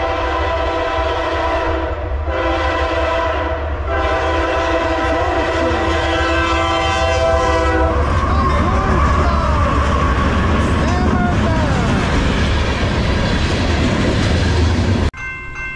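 A train horn blares in several long blasts, then a heavy CSX freight train roars past westbound up close with rumbling, clattering wheels.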